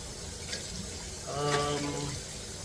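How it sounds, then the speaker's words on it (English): Hot water pours steadily onto rice in a container, a soft splashing rush that swells midway, over a faint background hiss. "hot water to this rice"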